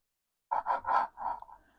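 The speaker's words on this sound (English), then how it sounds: "So we're going to cut it horizontally." A knife saws horizontally through a croissant in four or five soft, rasping strokes close by, fading out after the last one. No one speaks.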